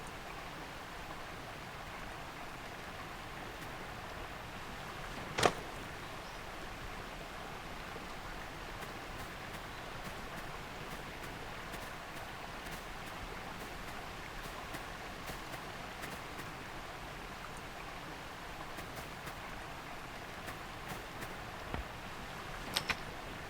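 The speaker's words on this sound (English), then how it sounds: "the noise of the mighty waterfall" Constant broad rushing of a mighty waterfall in The Dark Eye: Memoria, a steady wash of water noise with a couple of faint sharp clicks along the way.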